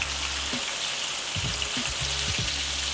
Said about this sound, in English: It's a nice sizzle.